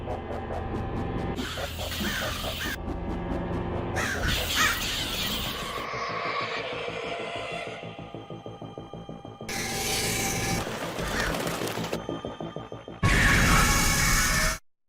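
Loud crows cawing fill a short horror film, mixed with eerie score, hissing and sudden crashes, with harsh caws recurring in bursts over the soundtrack.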